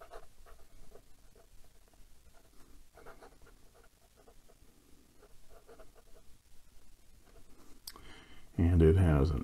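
A Kaco William Morris Acanthus fountain pen with an extra fine steel nib writes on Clairefontaine 90 gsm paper, making soft, faint scratchy strokes in irregular bursts, and a loud rustle or handling noise comes right at the end.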